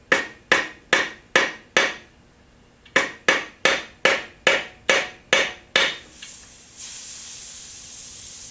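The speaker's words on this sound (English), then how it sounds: "I'm just going to go ahead and just puncture the top just a little bit" About a dozen sharp metallic taps as a screwdriver punctures the top of a spray paint can, then a continuous pressurized hiss of escaping gas takes over and holds.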